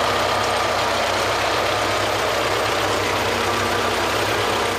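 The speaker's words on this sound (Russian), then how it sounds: "На раскаленном от солнца тракторе Усмон бороздит землю" A tractor engine runs steadily while ploughing a sun-baked cotton field, a continuous mid-pitched rumble with a faint knocking pulse, close and loud with no voices.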